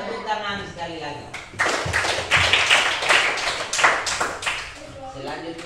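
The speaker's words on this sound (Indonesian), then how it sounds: "Tepuk tangan sekali lagi." Classroom of students clapping hands together at the end of a lesson, a burst of claps rising after a moment of talk and fading as speech resumes.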